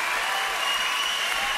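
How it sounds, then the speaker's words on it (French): A television studio audience applauds warmly, a thick, steady wash of clapping filling the whole short stretch at an even, fairly loud level. "Je crois qu'il faut l'applaudir très fort"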